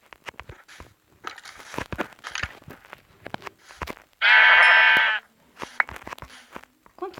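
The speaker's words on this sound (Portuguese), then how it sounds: "Vamos pegar uma ovelha ali." A sheep in Minecraft gives one loud, clear bleat about a second long midway through, among scattered soft clicks and crunching footsteps.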